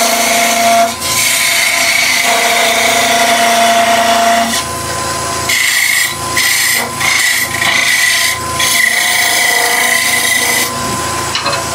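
Wood turning on a lathe with a spindle gouge while shaping a German smoker figure, a loud continuous scraping and rubbing with a whining tonal hum, steady and close, shifting in pitch as the cut changes, with no talking.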